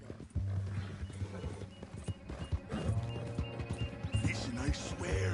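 Horse hooves in Red Dead Redemption 2, a rapid clip-clop of hoofbeats with occasional snorts and whinnies, loud and close, running under a man's dialogue.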